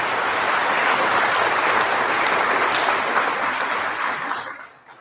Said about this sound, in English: Let's give them a virtual big round of applause for their support.